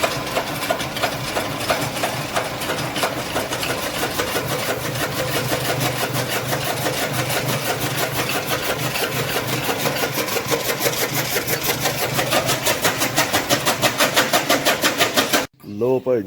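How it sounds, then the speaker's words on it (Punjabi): A motor-driven fodder chaff cutter (toka) on a dairy farm chops green fodder, making a steady engine drone with a rapid, regular chopping rhythm. It runs loud and close for the whole stretch, then cuts off abruptly near the end. "ਹਾਂਜੀ ਟੋਕਾ ਚੱਲ ਗਿਆ।"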